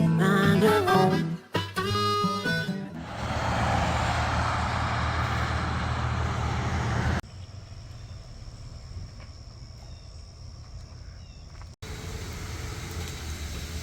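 RV on a test drive under a suspected transmission fault, a steady low engine and road drone with rumbling wind noise, dropping to a quieter steady hum partway through and picking back up near the end.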